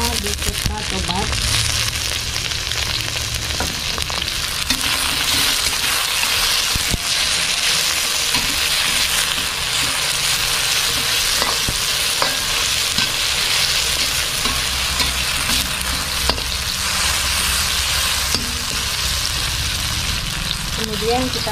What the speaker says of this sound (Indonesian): Kemudian kita masukkan cabai hijau dan cabai merahnya beserta tomat.